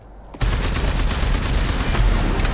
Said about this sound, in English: One final tank to blow up.